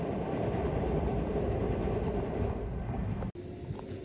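Commuter train ride in the Osaka area heading toward Horyuji Station, a steady rumbling interior hum with faint rail clatter and a high whine, briefly cut by a sharp click near the end.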